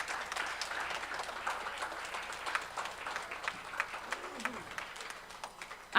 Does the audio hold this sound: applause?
yes